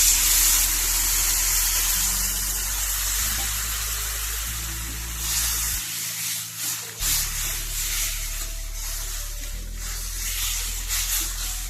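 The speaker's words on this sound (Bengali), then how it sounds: "এবার দিয়ে দেবো জল।" Water pouring into a pan of Bengali-style mirgel fish and potato curry, a steady broadband splash and gush running continuously for several seconds, close and fairly loud with no talking.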